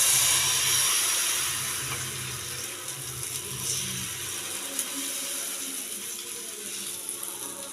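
Batter sizzles on a hot, oil-brushed tawa griddle, a steady bright hiss with faint crackle that eases slightly in loudness as it goes on, with no voices.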